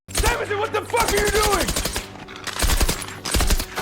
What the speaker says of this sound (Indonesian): Samuelson kemudian keluar dari tempat persembunyiannya dan menembak ke segala arah